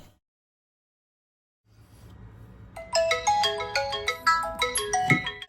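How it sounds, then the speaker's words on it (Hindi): A mobile phone ringtone plays a bright, loud, melodic tune of quick repeating notes. It starts after a few seconds of silence and a low room hum, and no one speaks. "सेम वे में ऐसे फ़ोन बजता है एक दिन"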